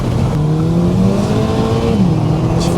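A Seat Leon FR accelerates hard, its engine note climbing steadily in pitch as revs build, loud and continuous from inside the car with no talk over it.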